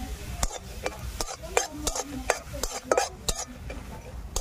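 Lentil dumplings (bori) fry in mustard oil in a wok while a utensil stirs them, making repeated sharp scraping clicks over a low, steady sizzle, with no voices.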